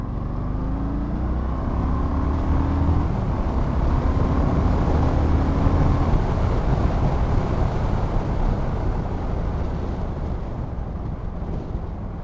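A Yamaha XVS 1300 Stryker motorcycle accelerating along a long straight, a low engine drone rising briefly in pitch before being swamped by heavy, steady wind roar on the microphone.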